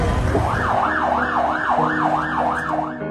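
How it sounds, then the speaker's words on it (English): An emergency siren wails loudly in Beirut on the night after a massive explosion, its pitch sweeping up and down in a steady, repeating cycle over low traffic rumble. "A night of horror in Beirut, with sirens blaring into the next morning."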